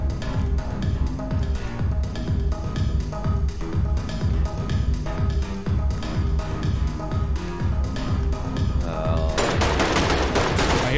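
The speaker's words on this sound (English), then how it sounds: "I hear shots" Rapid bursts of gunfire from the video game Ready or Not, loud and continuous over a dense music-like backdrop, with a sharper, brighter volley of shots crackling near the end.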